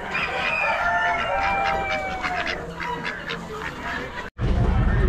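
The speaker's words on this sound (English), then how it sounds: "Nerdy ducks." Ducks and other fowl at a bird auction honk and call loudly, with overlapping squawks up close, and the scene cuts off abruptly near the end.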